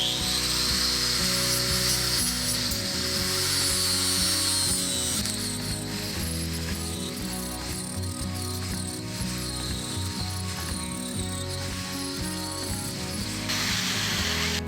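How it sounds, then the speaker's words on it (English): A flap disc sander grinds steadily along a lawn mower blade to sharpen it, making a loud, continuous whirring abrasive rasp with a ringing mechanical hum that lasts the whole time, with no talking. "So what we're using is one of these flappy paddle sander type things to sharpen it."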